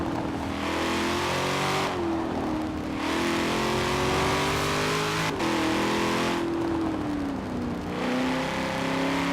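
A Corvette in Forza Horizon 4 roars loudly through repeated gear shifts, its engine pitch climbing and dropping in rising sweeps with brief lifts between, alone without talk.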